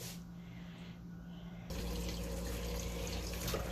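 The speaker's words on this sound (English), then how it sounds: "So now I'm gonna give them a wash and put them in the pot." Beets are washed in water, starting with quieter splashing and then a louder steady rush of running tap water, close by with no talk.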